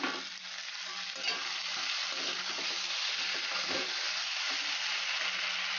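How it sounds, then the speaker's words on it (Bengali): Large cut potatoes go into a hot pan with mutton for a home-style curry, bringing a loud, even sizzle and a few stirring scrapes that carry on steadily, with no talking. "এবার আলুগুলো যেহেতু বড় বড় কাটা একসাথে দিয়ে দেব।"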